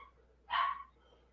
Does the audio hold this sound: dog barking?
yes